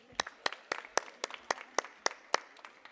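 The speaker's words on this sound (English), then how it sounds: "Let's give her one more round of applause." Audience applause at a Bharatanatyam Arangetram dance recital, heard as about ten sharp, evenly spaced claps of roughly even loudness, close and clear, with no talking.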